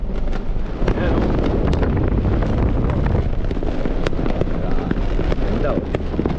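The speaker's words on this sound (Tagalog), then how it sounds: "Fireworks" Continuous crackling and popping of New Year fireworks exploding in rapid bursts in the rain, heard from the street, loud and dense, with a windy rumble underneath.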